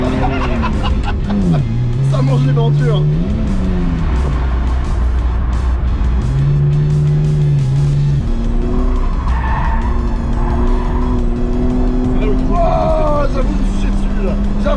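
A car drifting on a race circuit during a track day, with loud engine revs rising and falling, tyres skidding and squealing throughout, and people talking over the roar inside the car.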